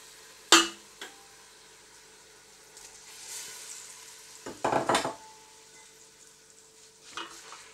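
Lamb pieces searing in a hot pan for a Moroccan tagine, with a sharp clatter as the meat goes in, then steady soft sizzling and a burst of louder scraping as it is stirred around midway.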